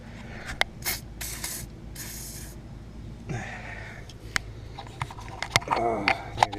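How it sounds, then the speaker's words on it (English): Penetrating spray hisses in several short bursts onto tight hub bolts on a Camaro Z28 or Trans Am front wheel hub, mixed with clicks and tool handling, and someone talks in between. "I'm just gonna spray those, loosen them up."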